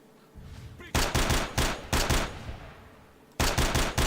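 Gunfire in the shooter game STALKER: Shadow of Chernobyl, loud close bursts of rapid automatic shots in two volleys separated by a brief pause.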